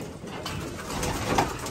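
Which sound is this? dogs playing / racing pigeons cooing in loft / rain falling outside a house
racing pigeons cooing in loft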